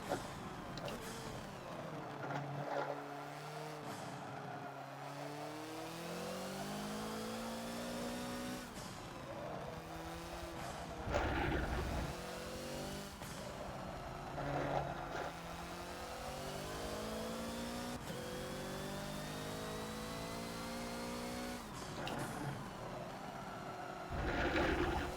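Hoonigan Ford Focus race car in Forza at the Mugello circuit, its engine revving hard and continuously through upshifts and sustained high revs, with brief dips between gears and no talk.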